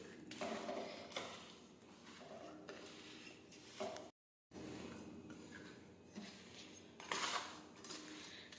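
Mango pickle ingredients, dried mango pieces in a spiced mixture, being mixed by hand in a metal vessel, giving steady close scraping and clinking with brief louder clatters and a short gap of silence partway through.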